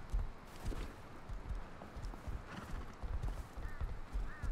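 Steady clip-clop of horse hooves walking at an even rhythm in the video game Rustalot, with a faint whinny and soft background ambience.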